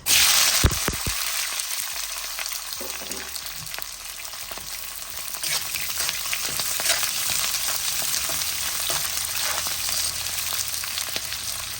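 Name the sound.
chili and onion frying in a pan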